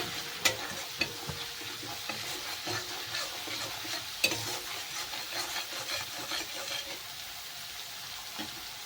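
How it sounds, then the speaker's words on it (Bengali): Turmeric powder sautéing in a pan for a thin rohu fish curry with coriander, a quiet continuous sizzle with rhythmic scraping strokes of a spatula and a couple of sharper knocks, no voices. "এর ভিতরে দিয়ে দেবো হলুদ গুঁড়ো মশলাটাকে একটুখানি কষিয়ে নেব"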